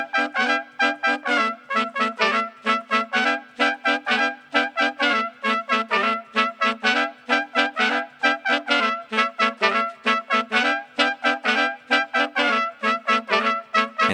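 A single horn-section line from the hocket in a song plays alone, short punchy brass stabs repeating in a tight funky rhythm with brief gaps between the figures.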